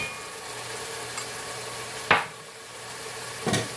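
Chinese okra curry sizzles in a hot pan over high heat, a steady hiss and crackle with a few sharp clanks of utensil against the pan, close and alone without talk.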